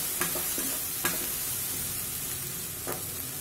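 Grated coconut and other ingredients are sautéed in a pan while a fish kulambu masala is prepared, with a steady low sizzle and a few sharp scrapes of a spoon stirring against the pan, close and fairly quiet.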